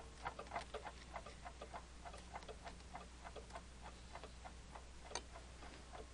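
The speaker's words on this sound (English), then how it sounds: "Cuckoo clocks." Cuckoo clocks in the video game Gabriel Knight 2 tick in a steady, even rhythm of soft clicks over a low hum, fairly quiet and alone.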